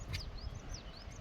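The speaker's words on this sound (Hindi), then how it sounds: "मस्त आवाज़ें आ रही चिड़िया की और पानी की भी" Birds chirp in short rising and falling whistles along a forest trail near a stream on the way to Tiger Fall in Chakrata. The calls are faint and repeated over a soft, steady rush of water.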